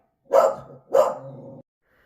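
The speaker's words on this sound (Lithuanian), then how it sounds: "teko sustabdyti, nes vėl prasidėjo lojimas" Two loud dog barks close by, about half a second apart, the second one drawn out a little longer, then silence.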